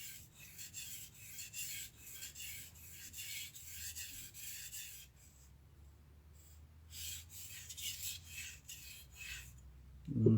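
A kitchen knife drawn across a sharpening stone during a sharpening class, giving a steady run of close, rasping strokes with short pauses and a brief louder knock at the very end.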